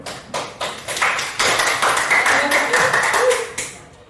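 A chemistry classroom claps for a student's good question: a few sharp scattered claps swell into a brief uneven round of clapping that thins out again, with voices mixed in.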